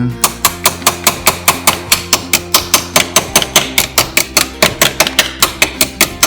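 A hammer taps a part down into place with a steady run of sharp, close metallic taps, about four per second, continuing evenly for several seconds.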